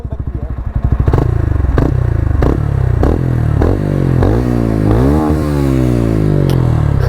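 A TVS Ronin 225 motorcycle engine in neutral revs up repeatedly from idle, each blip rising and falling in a steady series of loud, close throttle pulls.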